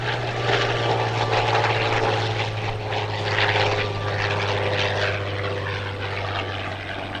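A World War II P-39 warbird passes at an air show, its loud propeller engine droning steadily and swelling slightly as it goes by, with no talk.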